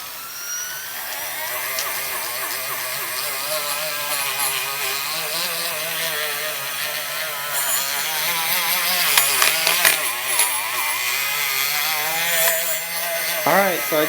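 A power tool with an abrasive pad polishes a Galant VR4 engine head, giving a steady, close whirring grind that wavers in pitch as the pad is pressed and moved, with light scraping over it.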